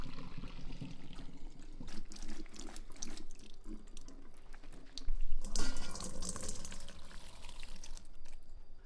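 Leftover pasta water poured into a cheese sauce for baked macaroni, a steady close trickle and splash with a stronger gush midway.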